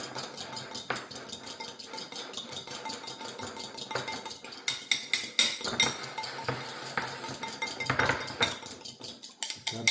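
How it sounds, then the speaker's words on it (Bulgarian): A mixture being briskly whisked and stirred in a bowl. Close, continuous metallic clinking and scraping, busy and fairly loud, with no speech. "Вече разбиваме. Разбъркваме добре."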